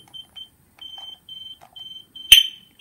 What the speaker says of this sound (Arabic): سمعتو هاد البيب ديال ارمومون ديزارمومون